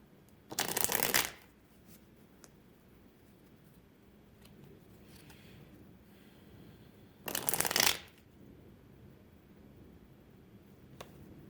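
Tarot cards being shuffled in two distinct bursts, each about a second long and separated by several seconds of quiet, the riffles close and crisp with no talking.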